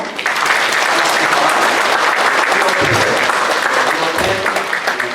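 A room full of people at a church service applauding steadily, loud and sustained throughout.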